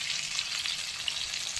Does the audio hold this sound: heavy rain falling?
no